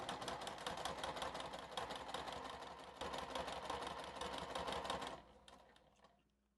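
A sewing machine runs continuously for about five seconds, stitching along both fabric edges at stitch length 2 with a quarter-inch seam allowance, then slows and falls quiet.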